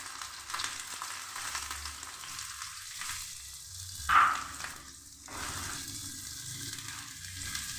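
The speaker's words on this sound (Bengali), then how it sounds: "পেঁয়াজ প্রথমে লাল করে ভেজে নিচ্ছি।" Chopped onion frying in mustard oil in a kadai makes a soft, continuous low sizzle, with one brief sharper clatter midway and no voices.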